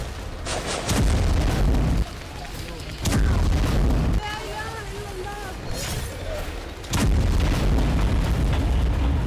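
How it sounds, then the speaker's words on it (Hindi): Loud blasts of bombing and gunfire in West Bank war footage, several heavy booms spaced a few seconds apart, with a voice talking between and over them. "हमले, बमबारी, फायरिंग, झड़प और टकराव।"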